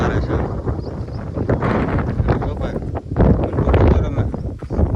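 Strong wind buffets the microphone in a steady, rough roar that gusts louder toward the end, with a voice talking underneath.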